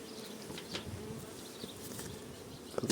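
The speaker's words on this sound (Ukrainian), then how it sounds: "І злі бджоли нападають, вітер." Bees buzzing nearby among angry hives, a steady droning hum with individual insects passing close, over light rustling and wind.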